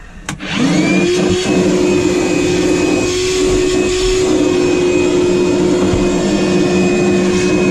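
A vacuum cleaner starts up and runs with a loud, steady whine and hum, close by, without pause, while cleaning a 1989 Jeep Wrangler YJ.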